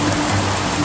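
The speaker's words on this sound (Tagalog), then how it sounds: "Lakas ng ulan." Heavy rain pouring down steadily in a backyard garden in Australia during a storm, a loud, dense, unbroken hiss filling the whole moment with no voices.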